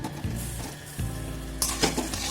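Boiled potatoes sizzle steadily as they fry in butter and garlic in a pan, with a brief stir and a light clink of a utensil against the pan partway through.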